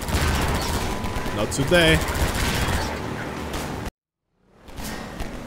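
Gunfire from the Half-Life 2 video game, a dense stretch of shots and impacts under game noise, with someone speaking briefly over it before a sudden cut to silence and the game sound returning.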